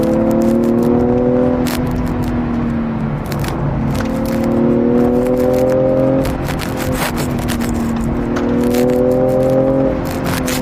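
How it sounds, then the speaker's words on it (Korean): A BMW M340i engine revs hard to around 5000 rpm in sport mode and climbs in pitch through repeated rising pulls, dropping back between gears, with road and cabin noise throughout. "5000rpm이니까 또 쭉쭉 뽑아내면서 이런 기분 좋은 이제 엔진음이 들리고요"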